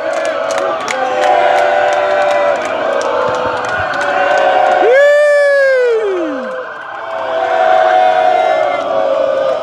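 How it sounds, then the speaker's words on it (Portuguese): Football supporters outside the Maracanã roar and chant continuously as the Fluminense team bus pulls in, a dense loud crowd with a siren sweeping up and down through the middle. "Olha aí a torcida."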